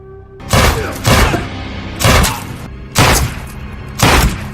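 Five loud, booming gunshots ring out at roughly one-second intervals in a gangster action film scene, each blast sharp and heavy with a brief decay.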